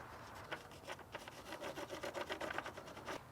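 Quiet, close scratchy rubbing strokes over house siding as its shape is traced, a soft rhythmic scraping that quickens mid-way, with no voices.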